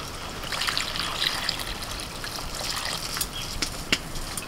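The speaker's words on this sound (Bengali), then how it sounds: "এবার জল দিয়ে দিচ্ছি।" Water trickles steadily into mashed potatoes mixed with mustard oil in a home kitchen, a soft continuous pouring sound alone, with no talk.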